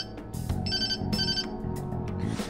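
Phone ringtone in the Persona 5 Royal video game, an electronic tone pattern that repeats in bursts over soft background game music, with no talking.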